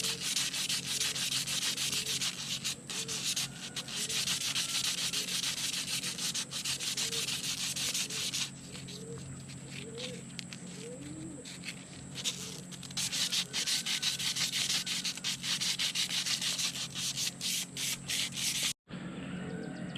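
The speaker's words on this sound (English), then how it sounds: "You got to sand all these bumps down, sections, and get them smooth" Sandpaper rubs back and forth along a cane arrow shaft to smooth down its bumps, a continuous rasping scrape in quick repeated strokes, close and fairly loud, with a brief break near the end.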